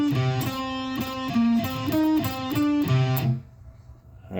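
A distorted electric guitar plays a fast, heavy metal riff of repeated picked notes in steady rhythm. It is loud and upfront, then cuts off abruptly near the end, leaving a faint ringing tail.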